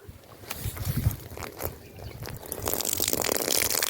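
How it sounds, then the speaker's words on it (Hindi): A stream of water pours onto the roots of plants, splashing and gurgling irregularly and growing louder toward the end. "पानी की धार इनकी जड़ों तक पहुंची है"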